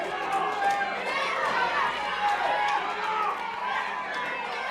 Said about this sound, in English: This crowd cheering on Dreamer.